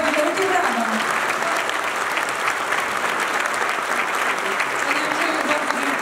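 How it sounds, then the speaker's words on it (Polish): A large audience applauds steadily after a folk song-and-dance wedding show, the clapping dense and sustained throughout, with a faint voice briefly audible beneath it. "Wielkie brawa."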